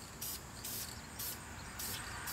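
Spray paint misted from a can onto a car wheel, four short hissing bursts in an even rhythm over a constant background rumble, close and fairly quiet.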